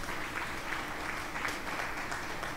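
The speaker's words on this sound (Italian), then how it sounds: "Su, facciamo un grande applauso di incoraggiamento" Steady applause of encouragement from a group in an Italian-speaking online gaming session, a continuous faint patter of clapping throughout without voices.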